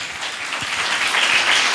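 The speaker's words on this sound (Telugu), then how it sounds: "చప్పట్లు కొట్టి ప్రభువును స్తుతించండి గట్టిగా" A church congregation at a Resurrection Sunday service claps in praise, a brief burst of dense, moderately loud applause from many hands with no speech over it.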